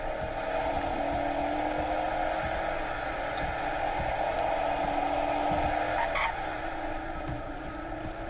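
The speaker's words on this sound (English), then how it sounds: "There's a car that's going crazy on the road." A car in a Roblox game skidding on the road, a sustained squealing tire screech over a steady engine drone, loud and continuous throughout with faint clicks, no voices.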